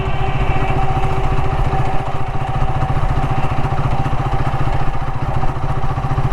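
A Royal Enfield Guerrilla 450 motorcycle ridden in fifth gear, its engine giving a steady, close, loud thrum with a fast even pulse and constant road and wind noise, with no talk.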